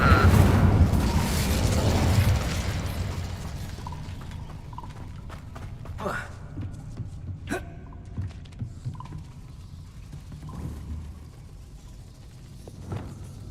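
An Incendio fire spell is cast in the Hogwarts Legacy video game, opening with a loud whooshing, roaring burst of flame that decays. Scattered softer clicks and thuds follow.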